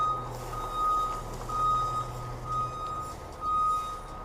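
A 2016 Entegra Anthem motorhome with a rear hub leaking oil reversing into a workshop, its reversing alarm sounding repeated evenly spaced beeps over a low, steady engine rumble, fairly close.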